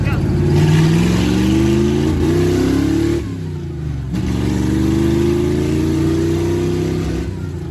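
A Jeep CJ5 hot rod engine on a street test revs up loud and close, climbing in pitch, briefly dropping off, then pulling hard again with a steady throaty drone.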